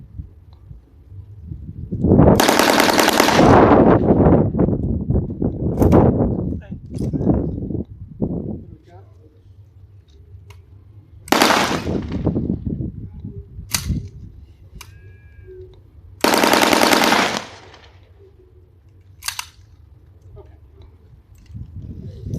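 Rapid bursts of automatic gunfire from a Sten submachine gun ring out, close and loud, several strings of shots separated by pauses, with someone talking in between.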